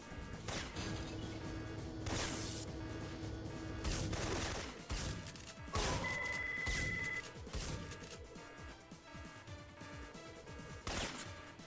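Rapid gunfire bursts and metallic mechanical clatter from the PS1 video game Syphon Filter, dense and continuous over game music, with repeated sharp volleys and no talking.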